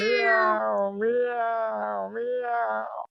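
A cat gives one long, wavering meow, loud and close, rising and falling for about three seconds before cutting off.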